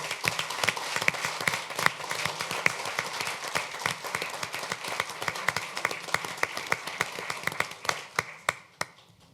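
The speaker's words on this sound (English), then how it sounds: "Give this man a big round of applause." Scattered clapping from an audience at a council meeting for a newly named police chief, a mix of sharp individual claps that thins out and fades toward the end.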